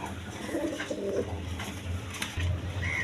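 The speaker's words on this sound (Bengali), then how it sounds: "দেখেন একদম সুস্থ সবল কবুতর" Pigeons kept at a breeding farm coo in low, soft, rolling bursts, several calls overlapping at close range against a quiet background hum.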